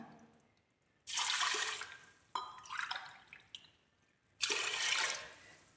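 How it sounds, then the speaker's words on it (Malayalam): Water poured from a glass into washed rice in a cooking pot, measured in glassfuls for a rice snack. Three splashing pours come in bursts with quiet gaps between them, close and moderately loud. "നേരത്തെ അരി എടുത്ത ഗ്ലാസ്സിന് തന്നെ ഒരു 2 ഗ്ലാസ് വെള്ളം കൂടി ഒഴിച്ച് കൊടുക്കാം."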